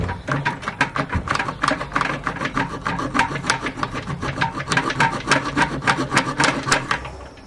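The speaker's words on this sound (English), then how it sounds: "I'm just going to try and cut it off just for ease, just with a little hacksaw." A small hacksaw cuts through a barbecue gas hose while a new regulator is fitted to a Weber Q3200. Close, rhythmic back-and-forth strokes rasp steadily at a brisk, even pace.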